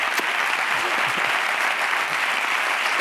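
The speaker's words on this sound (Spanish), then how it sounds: "Ter, Keke, un aplauso para ellos, para Antonio Resines, Dani Rovira." A studio audience applauds at the grand finale of a late-night Spanish TV show, a dense, steady roar of clapping that fills the whole stretch, loud and close, with faint voices underneath.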